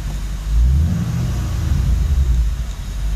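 A 2009 Ford Mustang GT V8 with a cold air intake, revving once to a deep low rumble and then settling into a steady, slightly wavering idle, heard close with no talking.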